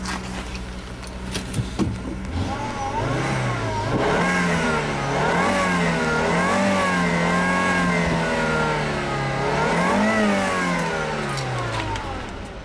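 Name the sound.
2006 Volvo 40 series turbo engine revving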